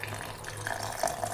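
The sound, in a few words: pouring tamarind-soaked water into pickle mixture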